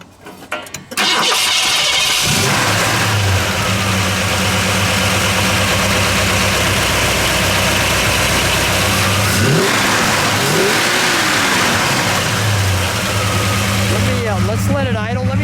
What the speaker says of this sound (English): All right, let's fire it, shall we? Let's start it up, Don.